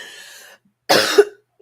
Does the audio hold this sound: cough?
yes